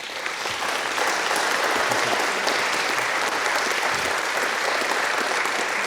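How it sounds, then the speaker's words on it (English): An audience breaks into steady, dense applause for a panel at a wealth management event, a continuous wash of clapping hands that holds level throughout without voices on top. "So I would like to have everybody give a round of applause for our panel tonight."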